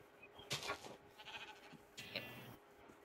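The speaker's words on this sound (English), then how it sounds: "But there's sheep." Sheep bleating outdoors near a hill, two or three loud, wavering calls spread across a few seconds, fairly close over quiet background.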